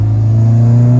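A Volkswagen Mk6 Golf R with an upgraded clutch, engine not fully warm, revs with a loud, deep, steady droning hum held briefly up close.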